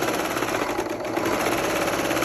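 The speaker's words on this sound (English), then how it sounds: "You can do a zigzag stitch or an overcast stitch on your sewing machine if it has one." A sewing machine runs steadily, stitching a zigzag stitch with a fast, even mechanical whir and clatter, close and continuous.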